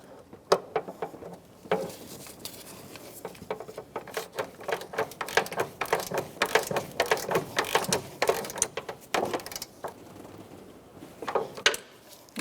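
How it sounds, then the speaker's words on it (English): A 1/2 inch drive ratchet turns a 16mm socket on a vertical transmission mount bolt of a 2007-2010 Chrysler Sebring, giving irregular bursts of clicking close by with short pauses and no talk. "I'm going to put my 1/2 inch drive back on, 16mm socket on this vertical bolt, and I'm just going to tighten it"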